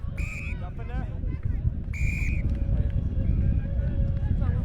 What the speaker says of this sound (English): There's a whistle, so we're going to come back.